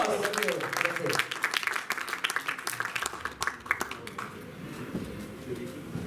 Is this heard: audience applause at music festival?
yes